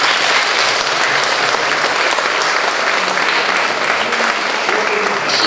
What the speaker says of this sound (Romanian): haideți în primul rând să-i aplaudăm pe toți copiii care au participat la acest concurs